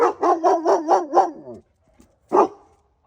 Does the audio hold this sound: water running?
no